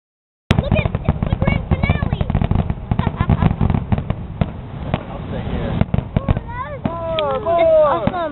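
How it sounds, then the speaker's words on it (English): Fireworks explode in a rapid, dense barrage of cracks and pops that keeps going for several seconds, and near the end voices chatter and call out over it. "there's gonna be a lot of fireworks"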